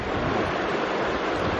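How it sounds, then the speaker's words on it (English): Steady broadband rush of flowing river water outdoors, loud and continuous with no pauses and no voices over it. "It's a river."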